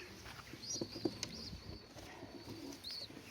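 Young Mikołajewskie pigeons coo and chirp softly nearby, with short tonal calls and a brief flutter of wings in a quiet loft.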